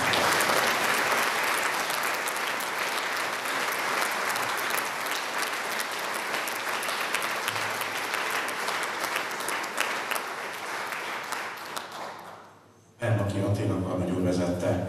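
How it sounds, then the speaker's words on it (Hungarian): Concert audience applauding a choir at a Budapest Philharmonic Society concert, dense sustained clapping for about twelve seconds that fades out before a voice starts speaking. "úgyhogy egy tapsot külön megérdemel."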